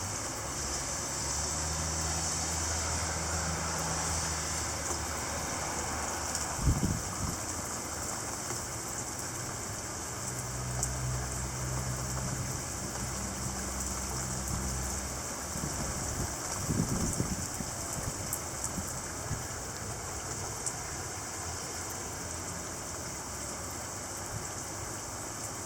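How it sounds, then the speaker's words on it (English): Heavy rain downpour driven by strong wind in a May storm, a dense steady hiss filling the whole stretch with low rumbling gusts that swell and fade, close and loud throughout. "Significant downpour."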